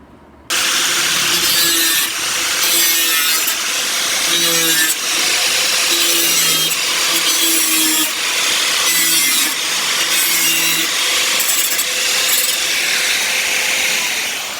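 An old 20-litre plastic water can being hand-sawn for a beehive, with loud, rhythmic back-and-forth saw strokes repeating steadily after a short quiet start.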